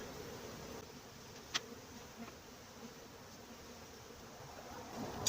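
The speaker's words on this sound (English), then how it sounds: "now what I've got is a lot of bees" Soft, continuous buzzing of many honeybees around a hive box after being moved from an owl box, faint and steady, with a few light taps and rustles.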